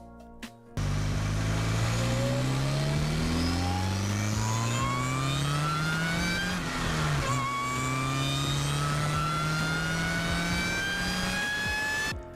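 A car engine revs hard and steadily climbs in pitch, drops briefly as it shifts, then winds up again, loud and close throughout.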